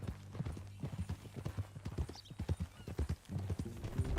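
Steady clip-clop of horse hooves on a trail in the western game Red Dead Redemption 2, a regular walking rhythm throughout with a low ambient bed and a brief whinny-like sound midway.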